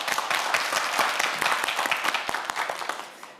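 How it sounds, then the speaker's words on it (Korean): A studio audience at a televised science quiz show bursts into dense, steady applause with many overlapping claps, fairly loud and close, then trails off slightly at the end. "큰 박수 부탁드립니다."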